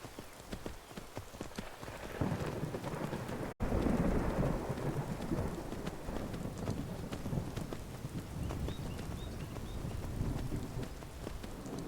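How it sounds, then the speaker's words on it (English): Steady rain in the video game Skyrim pours down with a loud rumble building in partway through, dense and continuous throughout. "the rain stopped and came back"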